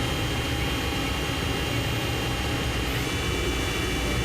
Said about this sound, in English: Let's tune in and hear the machine run. Spindle's currently running at 1500 RPM.